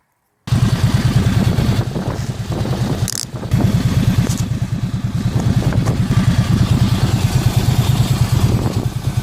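A 2004 Ducati Monster S2R 800 motorcycle runs close by, its exhaust giving a loud, throbbing, lumpy idle with rapid pulsing beats and a brief dip partway through, steady and alone without speech.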